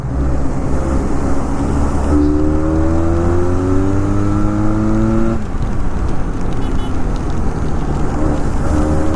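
A Benelli 502C motorcycle engine hums steadily and loud while riding through city streets, its pitch climbing through two rising revs with a gear change between, under constant wind rush.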